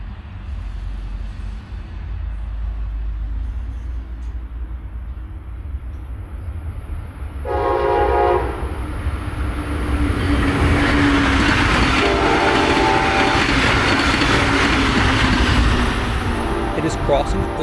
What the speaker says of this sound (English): Now here's the Kissimmee Wrap passing southbound.